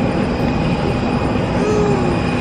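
A loud, steady engine roar of an airplane, heard from an airport boarding area, fills the space, with a faint rising whistle-like tone briefly sliding upward near the end.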